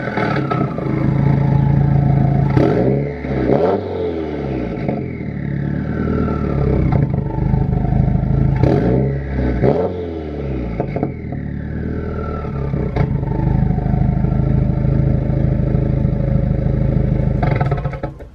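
A Subaru WRX fitted with a Grimmspeed J pipe revs loudly and close up. The engine roars through three separate throttle blips, rising and falling over a rumbling idle, with no talking.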